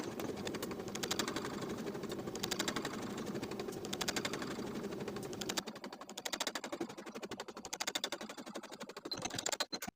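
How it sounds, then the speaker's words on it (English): A sewing machine runs a 5/8 inch seam down a pullover top bodice, a fast steady close chatter of stitches with a brief change in rhythm partway as it back stitches to secure, then stops. "Sew from the dot to the bottom of the bodice with a 5/8 inch seam allowance back stitching to secure"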